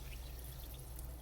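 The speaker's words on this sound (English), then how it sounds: "we need a cup full of our seltzer water" Chilled seltzer water poured into a cup, a faint, brief continuous pour with a soft fizzy splash, heard close and alone.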